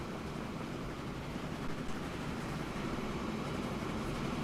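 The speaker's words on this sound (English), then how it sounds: "And here comes the other train, which is the SJ Lit B. Both engines are running." Steady rumble of an SJ Lit B train engine running in a railway simulation game, a continuous low broadband drone with no talk, holding even loudness throughout.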